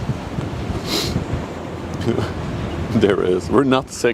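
Wind buffets an outdoor microphone at a riverside ship-spotting spot, a steady low rumble and roar throughout, while people talk over it.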